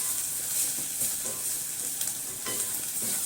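Onions frying gently in oil in a pan for an okra and potato stew with meat, a steady close sizzle with a few faint stirring scrapes, no talk.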